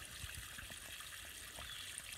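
Water trickling at a trail water source on the Appalachian Trail, a steady soft flow with faint splashes, heard alone at close range.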